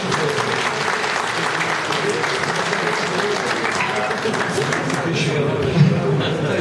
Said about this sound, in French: Et ça c'est vraiment très gentil, on peut l'applaudir.